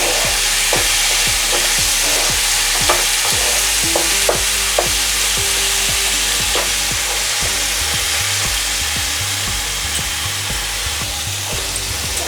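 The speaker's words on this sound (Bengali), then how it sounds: "আমার আদা রসুন পেঁয়াজ এগুলো সব কষানো সুন্দরভাবে হয়ে গেছে।" Ginger, garlic and onion sauté in a pan for egg korma, a loud continuous sizzle broken by a rapid series of spatula strokes and scrapes that slow and fade toward the end.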